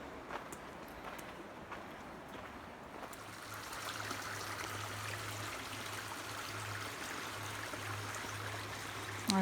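River water gushes over rocky shoals at Landsford Canal as a steady, soft, broadband rush heard from a distance. A low hum joins the flow partway through.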